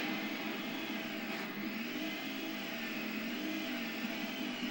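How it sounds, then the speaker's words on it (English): Luigi's vacuum cleaner from the video game Luigi's Mansion whirs steadily and quietly, a continuous airy hum that holds level throughout with no talking. "Let me adjust my vacuum cleaner by adjusting the sensitivity"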